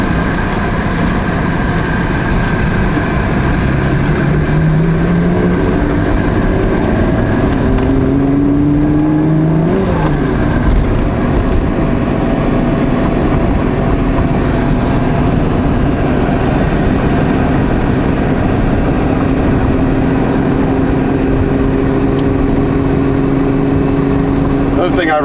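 A 1988.5 Ferrari Testarossa engine heard from the cabin on the road, a sustained loud drone that climbs and drops in pitch through several revs and shifts.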